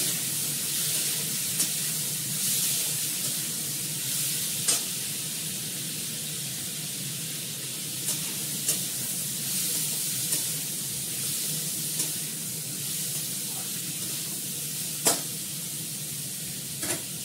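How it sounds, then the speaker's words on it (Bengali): Steady, close sizzle of frying in a pan after turmeric has gone in, a continuous hiss with occasional soft clicks and taps from stirring. "একটু ভাজা ভাজা করে নিই"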